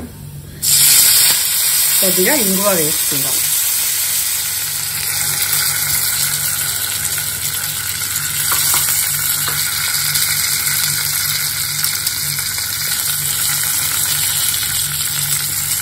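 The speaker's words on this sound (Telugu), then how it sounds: "ఇదే ఆయిల్లో తాలింపు పెట్టుకుందాం ఆవాలు జీలకర్ర కరివేపాకు" Steady sizzling of mustard seeds, cumin and curry leaves frying in hot oil runs throughout, with a brief stir near the start and a voice speaking over it.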